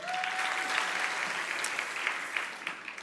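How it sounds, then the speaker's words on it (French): Audience applause for a contestant at a science talk competition, a steady wash of clapping throughout, moderately loud and with no talking. "On peut l'applaudir"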